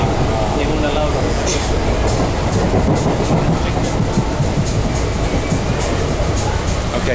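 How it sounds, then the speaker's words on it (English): Passenger train on the Kochi to Coimbatore route in India, rolling steadily with continuous loud rumble and faint rhythmic clatter from the wheels, a constant near wash of rail noise throughout with no talk. "Train slowed down."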